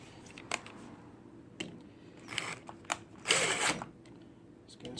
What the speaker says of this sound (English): So I'm going to set a couple of screws in